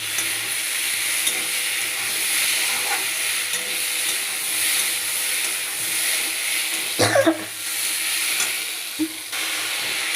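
A chilli vegetable curry seasoned with red chilli powder sizzles and hisses loudly in a hot pan as it is stir-fried, with a steady frying roar broken by a few clattering scrapes of the spoon.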